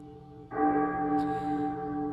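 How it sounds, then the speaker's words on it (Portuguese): A carillon rings out after a short quiet stretch, a sustained, resonant chord of bell tones that holds steady, with a brighter high strike joining partway through and lingering. "Mal cessavam os ecos do carrilhão"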